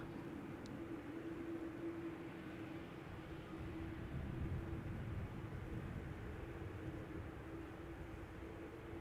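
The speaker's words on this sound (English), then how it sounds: "Got another 787-10 Dreamliner coming this way." A KLM Boeing 787-10 Dreamliner departing Amsterdam Schiphol gives a steady, distant, broadband jet roar with a low hum that holds at an even level throughout.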